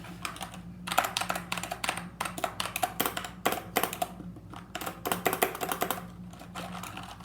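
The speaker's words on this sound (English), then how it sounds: "So yeah, I got a mechanical keyboard." Rapid keystrokes on a mechanical keyboard, clicking in irregular bursts with short pauses between, close and fairly quiet over a low steady hum.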